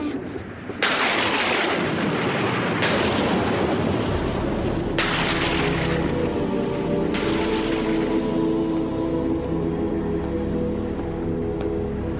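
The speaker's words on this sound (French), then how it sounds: "Dès que cet orage sera passé, tout redeviendra plus calme." A thunderstorm sends a series of heavy rolling thunder peals, about four booming cracks a couple of seconds apart, each fading into a long deep rumble under steady rain-like hiss.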